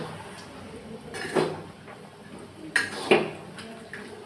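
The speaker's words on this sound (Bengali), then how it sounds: "গুড় দিয়ে সুন্দরভাবে নাড়াচাড়া করতে লাগলাম।" A spoon stirs mango pickle with jaggery in a pan, making a few sharp metallic clinks and scrapes against the cookware over a quiet background, close and moderately loud.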